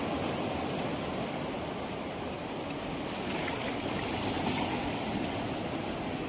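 Waves wash against a rocky shore at a fishing spot, a constant, fairly faint rush of surf with no distinct breaks.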